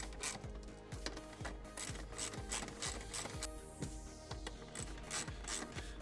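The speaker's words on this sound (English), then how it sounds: "Go ahead and tighten it all down." Bolts are tightened on a subwoofer box mount during an X3-17-SW installation, a quiet run of rhythmic ratcheting clicks and rubbing mechanical strokes repeating evenly throughout, with no talk.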